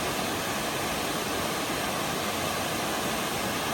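Split Rock Falls in Gorges State Park, a roughly 30-foot waterfall splitting into two streams, gives off a steady, even rush of falling water heard from a distance, with no voices.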